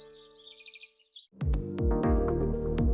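Small birds chirp and trill rapidly in a bird store advertisement, a bright close twittering run lasting about a second before music kicks in.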